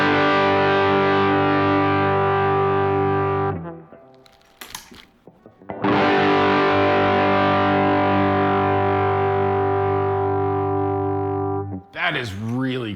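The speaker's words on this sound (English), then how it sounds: "I want to pay attention to the speed of the distortion sound." Distorted electric guitar through Klon-style overdrive pedals being compared, ringing out as two long sustained chords of several seconds each, loud and thick, separated by a brief gap of string and picking noise.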